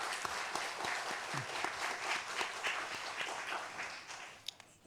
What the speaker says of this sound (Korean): 여러분들 격려하는 차원에서 박수 한번 쳐도 될까요?